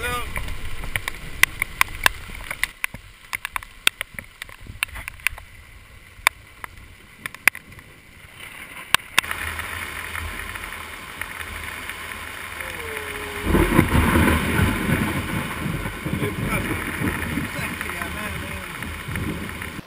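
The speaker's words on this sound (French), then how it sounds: "Un orage sur un lac dans le nord, c'est pas comme à Montréal, en ville ou n'importe où." Steady rain and gusting wind sweep over a northern lake in the Haut-Saint-Maurice during a thunderstorm, starting with scattered sharp knocks and then building into a dense, continuous hiss and roar that swells louder partway through.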